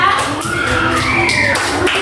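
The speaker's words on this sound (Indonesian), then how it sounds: "Tepuk tangan untuk Nak Kaila." A classroom of students claps for a classmate in a short burst of close, dense applause lasting about two seconds, with some voices mixed in.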